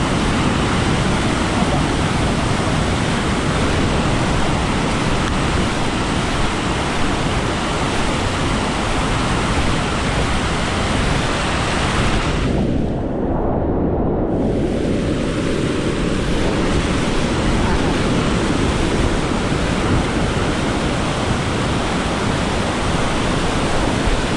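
Rushing flood water sweeping away a bridge, a loud, continuous roar of fast, churning water that drowns out everything else for the whole stretch, with no talking.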